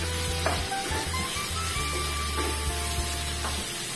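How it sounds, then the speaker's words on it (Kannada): Potato, onion and capsicum fry in a pan: a steady, close sizzle with occasional stirring clicks and scrapes, and no talk. "ಅದನ್ನು ಕೂಡ ಈಗ ಇದ್ರ ಜೊತೆಯಲ್ಲಿ ಹಾಕಿ ಫ್ರೈ ಮಾಡೋಣ"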